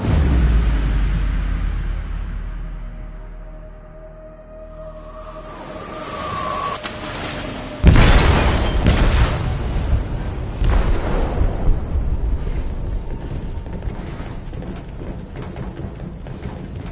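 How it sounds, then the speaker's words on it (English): A loud, booming blast goes off in a ship's hold in Detroit, a sudden broadband explosion after a quieter rumbling stretch, then a long roaring, crackling aftermath of debris and churning noise with no one speaking. "They detonated an explosive in the hold."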